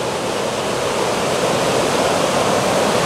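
Sea waves breaking over rocks at the beach at high tide by the new pier at Puerto de La Libertad, El Salvador, a loud continuous roaring wash of surf with no voices.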